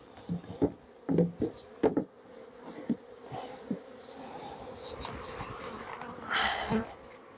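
Honeybees buzz steadily around an opened garden beehive, with occasional close clicks and scrapes of a hive tool on wooden frames sticky with propolis.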